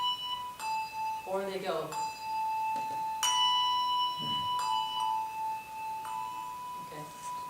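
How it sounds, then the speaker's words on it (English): Handbells ring in a classroom rehearsal, several clear sustained tones struck one after another with a steady ring, while a person talks over them. "you're going to ring this bell"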